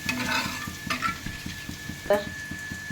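Water is added to a ready spice paste for fish curry in a hot pan. There is a loud hiss and sizzle, with repeated scraping stirs of a spoon against the pan.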